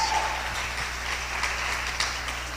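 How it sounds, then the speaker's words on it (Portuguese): A church congregation applauds for Pastor Fábio, a dense, even patter of many hands over a low steady hum from the hall's sound system. "um aplauso a você pela vida do pastor Fábio que está ali"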